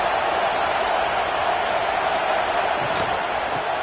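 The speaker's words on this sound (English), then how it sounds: "Listen to this crowd just shaking the girders of this place, trying to help their defense." Loud stadium crowd roaring at a college football game in a packed venue, a dense continuous wall of cheering and noise that holds steady throughout.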